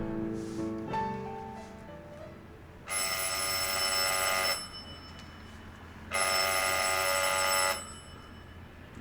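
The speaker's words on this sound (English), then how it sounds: "the ringing of that phone bell means mystery, adventure" An old-fashioned telephone bell in an old-time radio detective drama rings in two long, loud bursts of about a second and a half each, separated by a pause, after a brief musical phrase at the start.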